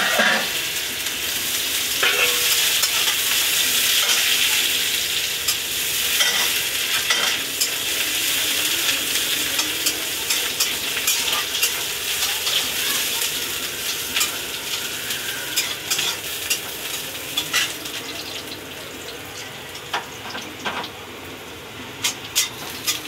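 Chopped onion fries in hot oil with black cumin and a dried chilli, a steady sizzle broken by repeated scraping and stirring in the pan, continuous and close for over twenty seconds.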